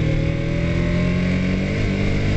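A motorcycle engine held at high revs with the clutch slipped before a wheelie gives a loud, sustained, steady droning roar close by, with no break in the tone.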